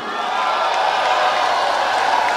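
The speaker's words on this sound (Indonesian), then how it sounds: "tepuk tangan dong buat Bung Rocky" An audience applauding Rocky Gerung at a student forum, a steady wash of crowd clapping that holds evenly for a couple of seconds.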